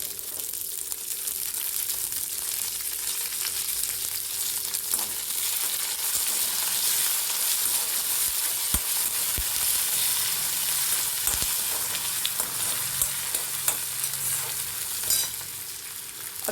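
Peanuts and curry leaves frying in a pan for mango rice give a steady, loud, close sizzle that runs throughout, with occasional clinks and scrapes from stirring.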